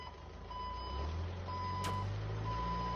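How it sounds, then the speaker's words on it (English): Steady reversing beeps from a forklift in an Everhood 2 game mod, evenly spaced tones repeating over a low engine rumble throughout. "It's in tune to the sound of a forklift?"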